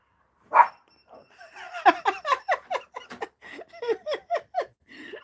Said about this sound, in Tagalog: Pasaway itong aso na to eh.